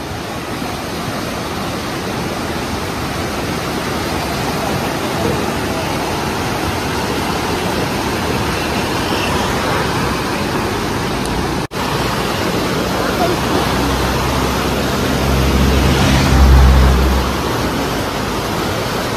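Floodwater from the Koshi River rushes through the raised gates of the Koshi Barrage in Nepal. A loud, steady, broadband roar continues without a break, swelling slightly near the end.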